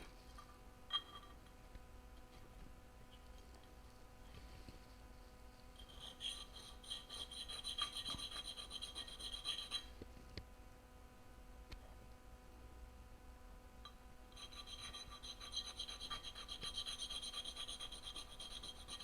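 Steady rasping strokes of a spokeshave blade's flat bottom being rubbed on a sharpening surface during tune-up, continuous close scraping with brighter, harsher passages midway and near the end, no voices.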